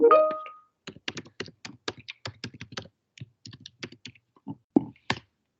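Quick bursts of keystrokes on a computer keyboard while a message is typed into an online chat, irregular clicks and thunks close by, with short pauses between flurries and no talking.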